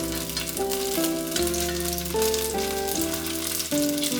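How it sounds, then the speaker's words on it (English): Gnocchi frying in a hot pan give a steady broadband sizzle that runs the whole time, partly masked by music with a melody stepping between held notes. "If your pan is cold, your gnocchi will stick to the pan and will not get a nice crispy outer"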